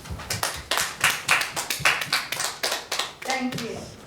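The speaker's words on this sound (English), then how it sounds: "let's give them a round of applause too" Students in a classroom clap in a brisk round of applause, close and fairly loud, with quick uneven hand claps that taper off near the end and light voices underneath.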